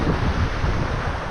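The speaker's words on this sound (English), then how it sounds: "There's very beautiful wind." Steady outdoor wind rushes continuously across the microphone beside a river in an African village, a dense broadband roar with gusty buffeting throughout.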